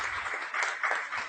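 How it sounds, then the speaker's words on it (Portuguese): A short burst of applause for city councillors at a public hearing, many hands clapping together in a brief, even patter. "Uma salva de palmas a todos os vereadores pela importância do tempo"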